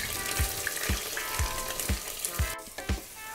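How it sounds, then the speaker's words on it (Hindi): Onion pieces fry in hot oil for mutton curry, a constant close crackling sizzle with soft regular thuds about twice a second as the pan is worked. "अब मैंने 5 से 6 प्याज के टुकड़े किए हैं जिसे मैं ऑयल में डाल देती हूँ"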